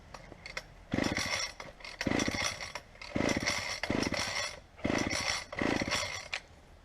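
A garbage-picked gas string trimmer is pull-started repeatedly, each yank giving a rough, raspy ratcheting burst of the small engine turning over, in about six regular pulls close by without catching, with no talking.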